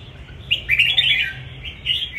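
A red-whiskered bulbul calls in bright, rapid chirping phrases, loud and close, repeating in short bursts over a low background hum.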